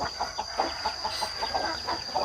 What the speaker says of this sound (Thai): เทปนี้ต้องขอบคุณพี่ไก่นะครับ ที่พามาดูเรื่องการอนุบาลแล้วก็ดูแลลูกไก่นะครับ